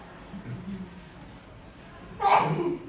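During a physiology lecture on the digestive system, a single sharp sneeze bursts out near the end, loud and close, after a stretch of faint background voice in a quiet room.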